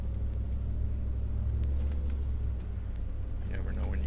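An RV driving slowly through soft sand ruts, with a steady low engine and tire rumble holding throughout and some faint knocks and creaks near the end; speech is heard at points over the drone.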